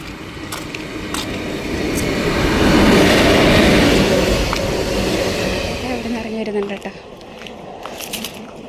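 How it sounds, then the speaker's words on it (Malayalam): Train thunders past without slowing, its roar swelling to a loud peak then fading, with wheels clattering and voices nearby. "ട്രെയിൻ വരും ബട്ട് ഇതല്ല നമ്മുടെ ട്രെയിൻ ഈ ട്രെയിൻ ഇവിടെ നിൽക്കത്തില്ല"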